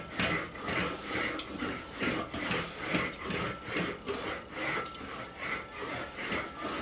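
Sheet metal is planished on an English wheel. A continuous, close, rasping roll rises and falls in a steady back-and-forth rhythm, with no voices.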